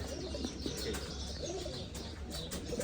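Many pigeons for sale coo and chirp together in a steady, fairly faint murmur of overlapping throaty calls, with no clear talk.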